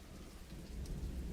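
Steady rain falls, a soft, continuous wash of patter that holds at a low, even level, with a distant low rumble underneath and no voices.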